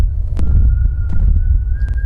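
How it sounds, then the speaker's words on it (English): In a scary story about El Silbón, a low pounding heartbeat thuds continuously and loudly while a thin, steady whistle hangs faintly above it, with a few brief sharp clicks. "the thudding gets louder, the whistling gets fainter"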